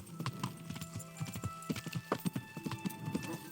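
Horse hooves clip-clop in a steady, brisk rhythm of distinct hollow knocks in the medieval video game Kingdom Come: Deliverance, fairly close and clear over a quiet background, with no talking.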